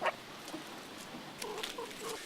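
Chickens in a backyard chicken coop, giving several soft clucks and short squawks at moderate distance, quiet and scattered with faint background noise.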